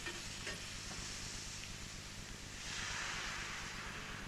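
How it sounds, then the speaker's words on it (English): Chopped shallots frying gently in butter in a pan, a soft, steady low sizzle that swells slightly toward the end, quiet and with no talk. "Add the chopped shallots, fried gently for 2 minutes, then cover and cook for a further 2 minutes."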